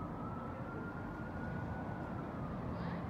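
An ambulance siren wails steadily from some distance as the vehicle drives away, a thin sustained tone over a dense, noisy background.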